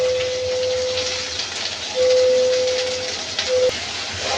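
Ginger, garlic and onion paste fries in a pan with a soft, steady sizzle, close by, while a faint tone beeps on and off in the background; nobody speaks.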